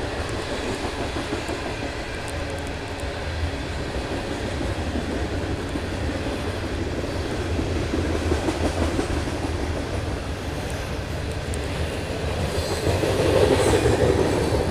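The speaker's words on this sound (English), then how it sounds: "I hear a train coming." A train rolls along the tracks on a city route, a continuous loud rumble with faint wheel clatter that swells slightly near the end, with no voices.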